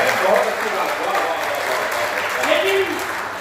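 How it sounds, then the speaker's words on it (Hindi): Audience applause at a Hindi motivational talk, a steady wash of clapping from a crowd that holds evenly through the moment and swells slightly near the end, with a voice briefly heard over it. "मैं चाहता हूँ कि एक बार जोरदार ताली।"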